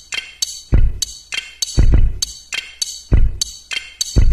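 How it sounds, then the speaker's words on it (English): Lego-click drum kit with compression and reverb: punchy kick thumps alternate with bright clicky hi-hat ticks in a steady repeating beat, loud and close with a short reverb tail. "Let's add a compressor and some reverb, and here's our drum kit"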